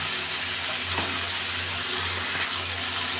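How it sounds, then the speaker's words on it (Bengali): Bitter gourd pieces fry over a high gas flame in a pan with salt and turmeric, giving a steady close sizzle with a brief scrape of stirring, and no talking. "একটু নাড়াচাড়া করে দেবো। একটু ভাজা ভাজা করতে হবে উচ্ছেটা।"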